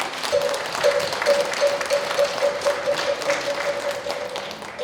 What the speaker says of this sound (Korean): 큰 격려의 박수를 한번 부탁드리겠습니다